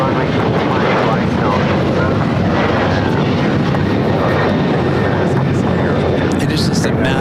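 Loud, continuous roar of heavy jet aircraft taxiing outside the Tom Bradley terminal at LAX, with a rumbling low end that stays steady throughout, while voices carry on over it.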